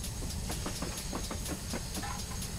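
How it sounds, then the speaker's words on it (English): Simulated GWR Hall 4900 Class steam locomotive on a train simulator game, brakes releasing pressure: a steady hiss with a rhythmic series of soft puffs or clicks, no talk. "you can hear the various pressures being released"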